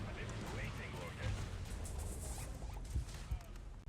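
Missiles exploding in a C&C Rivals battle as an APC takes hits: a continuous low rumble of blasts with a few sharper thuds near the end, fairly faint and overlaid by commentary.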